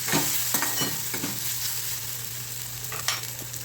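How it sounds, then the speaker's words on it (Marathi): Ghati masala spices fry in hot oil, a steady close sizzle broken by several scraping strokes of a spoon, quiet kitchen with no talking. "घाटी मसाला दीड चमचा घालते घाटी मसाला हे मसाले आपण तेलामध्ये परतून घेऊया"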